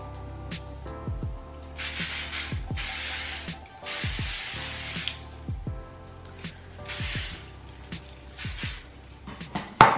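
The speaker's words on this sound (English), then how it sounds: "Take a little bit of spray." Repeated short hissing bursts of hairspray from an aerosol can, close and fairly loud, with small rustles and clicks between sprays.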